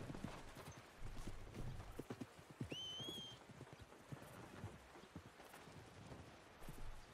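Faint rhythmic clip-clop of horse hooves on a hard surface in a video game, with a brief high whinny-like whistle partway through, no speech.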